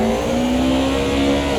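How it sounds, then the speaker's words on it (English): Simulated E30 BMW M3 engine from the Automobilista 2 racing game, a steady, loud, sustained engine drone holding a fairly constant pitch throughout, with no talking. "Leave you with the sultry sounds of the E30 BMW M3."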